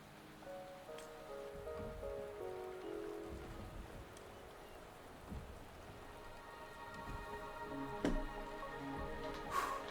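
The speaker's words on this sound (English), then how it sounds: "The rain is subsiding, and the sky will soon clear." Steady rain falls in the video game Wuthering Waves, a dense hiss of drops on surfaces with soft music tones beneath and occasional louder splashes, with no voices.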